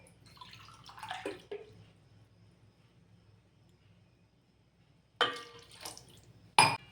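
Water poured from a tumbler into a cooking pot for fenugreek pulao, heard as a soft splashy stretch early on, then two short, louder pours near the end against a quiet kitchen background with no talking.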